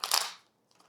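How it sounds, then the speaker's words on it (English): Tarot cards being shuffled for a reading, a single quick riffle burst of papery card flutter up close, dying away within half a second, followed by faint light card taps. "Let me give these a shuffle."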